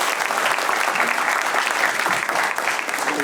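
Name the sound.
audience applause for Mindaugas Laskovas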